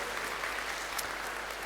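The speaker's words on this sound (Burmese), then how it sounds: "လက်ခုပ်တန်လေးကြားခြင်းပါတယ်" Steady applause from an audience at an anniversary celebration in Panglong, a dense, even wash of clapping that holds at a moderate, somewhat distant level throughout.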